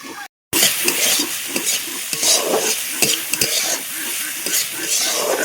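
Carrots fry in a pan with a continuous loud sizzle, while a utensil stirs and scrapes in repeated clicks and knocks close by.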